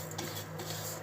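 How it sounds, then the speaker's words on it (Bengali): Rice goes into a kadai while pulao is being made, a soft rattling scrape of grains and metal with a faint sizzle underneath, brief and low in level. "এরপরে আমি চালটা দিয়ে দিব কড়াই"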